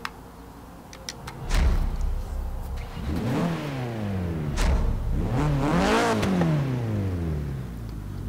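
A 2016 Vauxhall Corsa VXR with an AWD drift setup fires up and is revved repeatedly. The engine note climbs and falls in several sweeping pulls over a steady idle, loud and close, with no talking.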